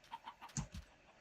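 A chicken in the video game Minecraft gives a few quick, faint clucks, a short, soft run of calls with nobody speaking.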